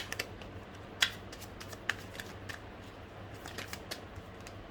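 Tarot cards being shuffled and drawn by hand, a quiet close-up run of soft riffling flicks and light card snaps in an otherwise still room, with a sharper slap near the start.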